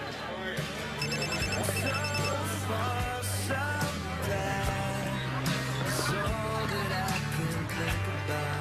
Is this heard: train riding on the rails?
no